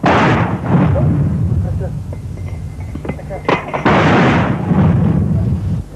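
Artillery guns fire in wartime, heavy booming blasts rolling through the stretch at close range, with shouted voices mixed in among the bursts.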